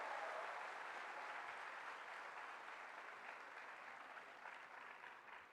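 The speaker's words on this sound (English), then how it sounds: "A big round of applause as we welcome him to speak a few words here." An auditorium audience applauds steadily at a literary festival inauguration, a dense sustained wash of clapping that fades gently over a few seconds.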